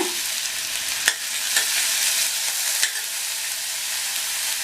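Finely chopped onion fries with fenugreek in a pan of hot oil, giving a steady, close hiss with a few soft knocks of stirring and no voices.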